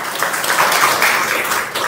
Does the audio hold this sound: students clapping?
yes